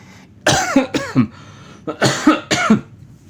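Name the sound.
cough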